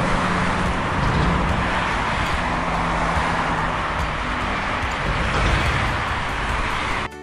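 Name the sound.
lorry driving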